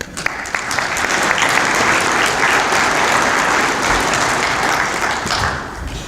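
An audience at a farm presentation on sow breeding breaks into loud, sustained applause that swells quickly and holds for several seconds before tapering slightly. A faint voice can be heard beneath the clapping.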